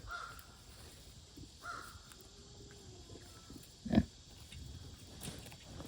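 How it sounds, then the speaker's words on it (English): Pigs confined in a garden on a warm day give soft grunts and snorts at intervals, with one louder burst near the middle, against a quiet outdoor background. "now obviously these pigs are trapped in the garden"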